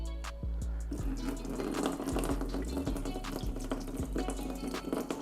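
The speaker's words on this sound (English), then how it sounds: "Oh, there's quite a bit of coolant in there." Coolant pouring out of a Subaru FA20 engine onto a shop floor, a steady splashing liquid stream with several low knocks from handling, close and continuous throughout.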